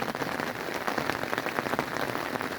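Heavy rain falling outside in the dark, a dense steady hiss of drops pattering on surfaces, continuous and fairly loud with no voices.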